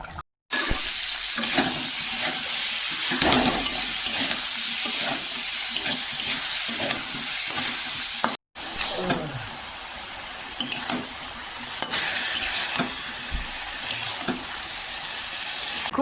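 Water pours into a sizzling, nearly done curry of spinach, kohlrabi, beans, potato, tilapia and small parshe fish, giving a rushing hiss with crackles and stirring clatter. A brief gap breaks it midway, then it resumes.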